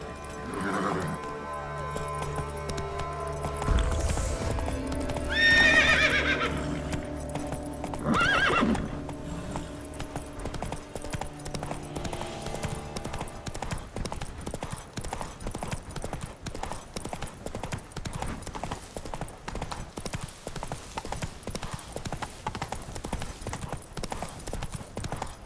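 Roach the horse in The Witcher 3: Blood and Wine, with a loud whinny early on followed by a steady, continuous rhythm of galloping hoofbeats clip-clopping close by, over music and game ambience.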